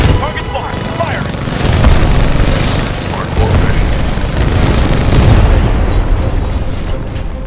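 Heavy weapon fire and booming explosions from Titanfall 2 roll on loudly and continuously, with dense rumbling blasts and crackling debris; voices talk amid the barrage.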